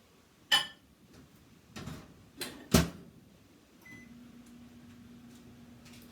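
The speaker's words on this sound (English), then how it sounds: "I'm going to pop over to the microwave to melt it." A kitchen microwave oven melting butter: a few sharp clicks and taps, then a faint, steady low hum as it runs, heard quietly with no talking.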